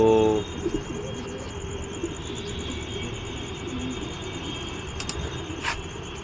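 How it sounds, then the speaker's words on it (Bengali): Mature female pigeons in a home loft, soft low cooing and shuffling calls heard close by over a steady background hum, with a brief sharper sound at the start and a few faint clicks later. "এগুলো সব ধাড়ি মাদি এগুলো ধাড়ি পায়রা দেখানো হচ্ছে"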